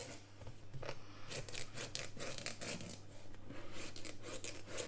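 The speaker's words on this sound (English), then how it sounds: "I want to cut this in half anyway, all through around there." A knife slicing through a whole pumpkin, with a steady run of scraping, crunching cuts and short tearing strokes close by over about five seconds, no talking.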